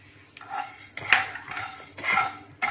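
Coriander seeds tipped into a hot pan over a low flame for roasting spices rattle and clink against the metal in a few soft, close scattering bursts with light pan scraping.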